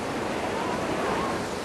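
Powerful white-water river current in North Queensland during rafting, a steady broadband rushing roar, fairly soft and continuous for under two seconds.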